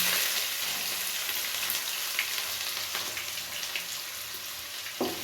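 Sliced onions frying in a pan with kasuri methi, fennel seeds, cinnamon and cardamom, giving off a steady close sizzle with soft crackles and an occasional light stir.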